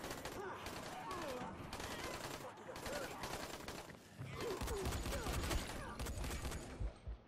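Gunfire in the video game Dying Light: sustained bursts of shots with game sound effects, fairly quiet overall, and someone speaking briefly over the action.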